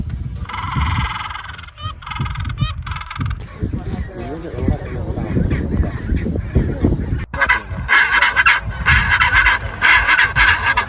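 Many penguins in an Antarctic colony honk and squawk over one another in a dense, constant clamor, loud and close, with voices mixed in.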